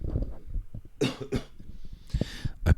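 A few sharp, raspy coughs come in quick bursts, mixed with throat-clearing sounds and soft breathy noises between them.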